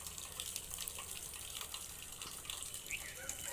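Rainwater leaking inside a house, a faint steady patter and trickle of water falling with small irregular drips, quiet and diffuse.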